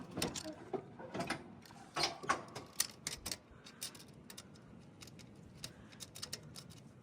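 Clicking and ratcheting of the height lever on a Warhawk Commander PRO zero-turn mower deck being raised a notch, a cluster of sharp close mechanical clicks and clunks at irregular intervals with no talk.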